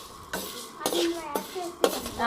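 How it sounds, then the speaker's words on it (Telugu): Dry red chillies being stirred and roasted in a metal pan for masala chilli powder, with a few distinct spoon-on-pan scrapes and clinks at intervals over a faint background. "ఇక్కడ దోరగా వేయించుకుంటున్నామండి."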